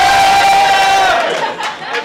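Crowd cheering and yelling at a rap battle held at a Dave and Buster's birthday party, a loud, close burst of shouts that fades after about a second and a half.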